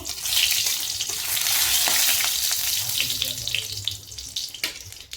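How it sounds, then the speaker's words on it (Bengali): Nigella seeds tempering in hot oil sizzle with a loud, steady, close hiss and faint crackles for about five seconds, with no talking. "কালো জিরে ফোড়ন অল্প ভেজে নেব।"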